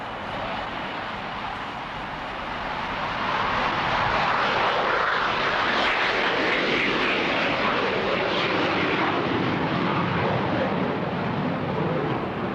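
An airplane near Burbank Airport roars as a broad steady engine rumble that swells louder after a few seconds and holds, heard alone without voices.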